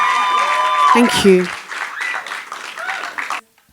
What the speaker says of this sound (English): Please give her a round of applause again, guys.